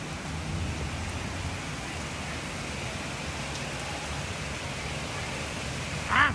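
Steady heavy rain from a storm during a Houston tornado warning, a dense, even wash of drops close by with a brief louder burst near the end.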